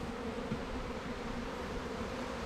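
Honey bees buzz steadily inside a newly started nucleus hive, a dense, continuous drone held close and loud throughout, with no voices.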